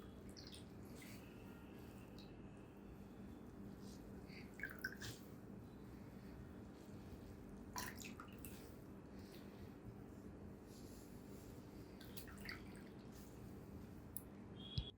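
A wet crochet piece is squeezed after soaking in warm water, and water drips from it in a few soft, faint splashes spaced several seconds apart. A quiet, steady low hum fills the room underneath.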